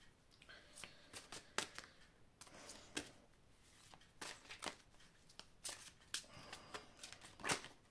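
Large Toltec oracle cards being shuffled by hand, a run of soft papery riffles and slaps in irregular bursts, close and quiet, with no talking.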